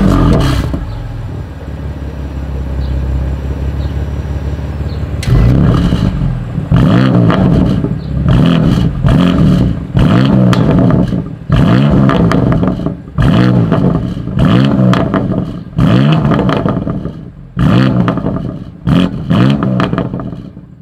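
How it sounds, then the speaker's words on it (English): A 2020 BMW M2 Competition idles with a low steady exhaust drone, then its engine is blipped roughly a dozen times in a regular rhythm, each loud rev rising sharply and falling back, close to the car. "Is that exhaust clip."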